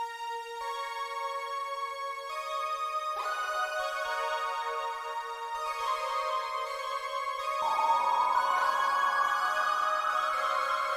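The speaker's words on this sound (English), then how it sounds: "I just played a little riff on the Juno as well," A Roland Juno synthesizer plays a short melodic riff of held notes that step between pitches, then a bright sweep rises toward the end; no talking.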